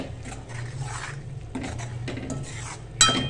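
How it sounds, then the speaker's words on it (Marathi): A spoon scrapes and clinks against a pan as masala is stirred while it fries in oil, in a few close rasping strokes that end with a brighter metallic clink. "मसाला चांगला फ्राय होऊन देणार आहे,"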